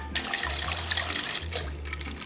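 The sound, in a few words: pouring casserole mixture into a dish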